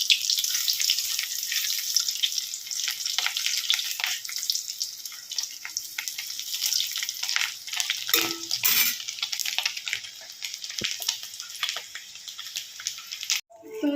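Eggs fry in a pan with a steady, bright sizzle that crackles on for the whole stretch and sounds close. A few brief clatters break in near the end.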